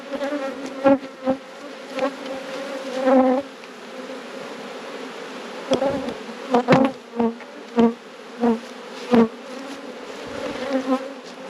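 Honey bees buzz around a hive in a dense, continuous drone, with individual bees zipping close past in sharp, louder bursts that come and go.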